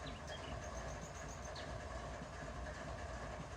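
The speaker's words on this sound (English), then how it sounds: "I'm going to go and attach myself to this train here" A freight train in the Run8 Train Simulator game at West Colton rumbles steadily with a dense, even mechanical drone, and faint high metallic squeals rise briefly near the start.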